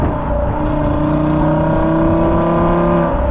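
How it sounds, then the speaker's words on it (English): Audi RS Q3 engine revving in dynamic mode with the rear exhaust valves open and gearbox in sport mode: a loud, steady, close exhaust drone with rising harmonics, sustained without a break. "puts your gearbox into sport mode, and makes your car sound like this."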